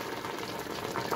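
Water in a pot on the stove heats toward a boil, giving a dense, steady rushing hiss and bubbling with no voices over it.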